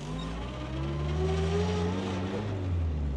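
A 1949 Simca 8 Sport cabriolet pulls away in first gear on a test track, its engine note climbing steadily in pitch, close and clear with no talk.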